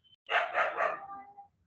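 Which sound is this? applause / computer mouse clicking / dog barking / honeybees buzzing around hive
dog barking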